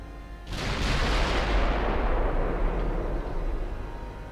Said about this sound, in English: We're firing at 27 kilometers.